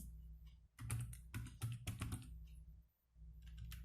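Quiet, close-up typing on a computer keyboard as an email address is entered, with irregular bursts of key clicks and a short pause before the typing resumes.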